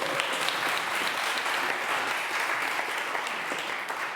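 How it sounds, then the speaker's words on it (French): Audience applause at a French reportage gathering, dense continuous clapping from many hands, steady and fairly loud throughout. "On peut l'applaudir s'il vous plaît"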